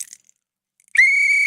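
One sharp, shrill whistle blast rings out loud and steady for about half a second after a stretch of near silence.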